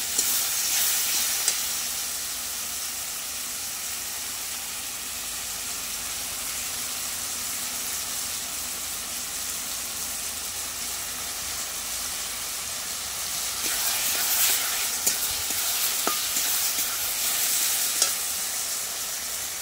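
Spice paste fries in oil with a steady, close, hissing sizzle throughout, while a spoon stirs and scrapes the pan in a run of small clicks and scratches toward the end, with no talk.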